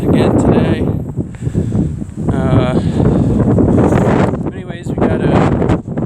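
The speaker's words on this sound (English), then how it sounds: "Pretty windy out again today." On a rooftop, strong gusts buffet the microphone with loud, roaring low-end rumble, and cattle low intermittently in the background under the wind.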